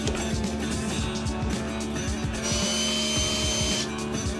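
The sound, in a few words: drill boring through brass lamp base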